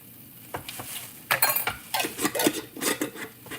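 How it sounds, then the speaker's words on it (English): Coconut oil added to a dry pan while cooking amok steamed fish, with metal utensils scraping and clinking against the pan over a faint sizzle in short, close, uneven bursts. "I'm gonna go ahead and add about another 1 more tablespoon of coconut oil."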